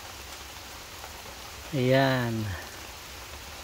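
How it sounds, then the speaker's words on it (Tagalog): Light rain and heavy drizzle fall steadily in a rural province, giving a soft, continuous hiss, while a voice briefly speaks over it. "tikatik ang ulan, malakas na ambon."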